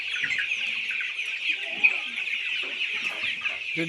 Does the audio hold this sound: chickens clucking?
yes